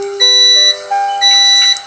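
Electronic beeps from a prepaid electricity meter signalling its token credit has run out: steady, loud tonal alert pulses in two bursts, with no talking.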